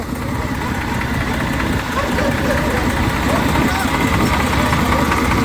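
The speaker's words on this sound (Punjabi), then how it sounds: "ਹਾਂਜੀ ਟਰੈਕਟਰ ਆਪਣਾ ਸਟਾਰਟ ਹੋਇਆ ਏ" A tractor engine runs with a loud, steady low rumble and idling chug, continuous throughout.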